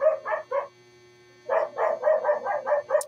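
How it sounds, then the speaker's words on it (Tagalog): A dog barks in two bursts: three quick barks, a short pause, then a rapid run of about seven more, close and loud. "Ang ingay ng aso."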